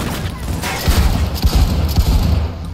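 Shotgun blasts go off in the video game Cyberpunk 2077, several heavy booming shots in a row, loud and close over low game ambience.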